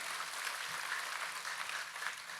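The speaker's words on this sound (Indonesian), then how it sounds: "Kita kasih tepuk tangan yang paling meriah buat Tuhan kita." A church congregation claps during a worship service, a dense, steady applause that is fairly faint and distant, continuing evenly throughout with no voices over it.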